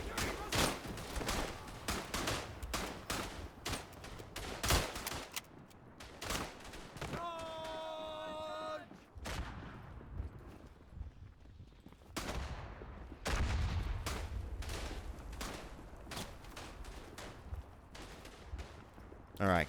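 Artillery and rifle fire in the World War I shooter Verdun, a dense barrage of sharp shots and heavy blasts, some close and some distant, with a shrill whistle midway and voices talking between.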